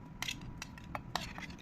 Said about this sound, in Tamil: இது இந்த பட்டர் ஃப்ரூட்டை வந்து மிக்ஸி ஜாருக்கு மாற்றிட்டு